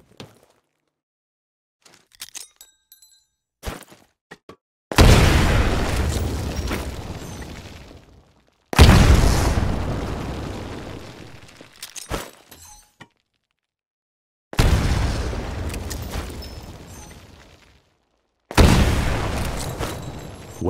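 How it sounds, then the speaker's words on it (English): Four grenade blasts in a Titanfall training course, each a loud, booming burst with a breaking, glassy crash that decays over a few seconds, separated by short quiet gaps with small clicks and clinks between them. "Throw a grenade into each of the windows."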